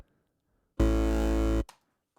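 Bass note from the Serum software synth with the distortion modulation removed, a single loud buzzy sustained tone lasting under a second that starts and stops abruptly, alone in silence.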